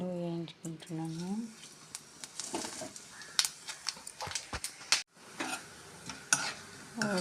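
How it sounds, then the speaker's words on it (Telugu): Cumin and coriander seeds dry-roasting in a pan give a run of light scraping and clicking stir strokes, with a brief voice-like sound near the start and a short quiet gap partway through. "ఇప్పుడైతే దీంట్లో జీరా ధనియాలు వేయించుకుంటున్నాను."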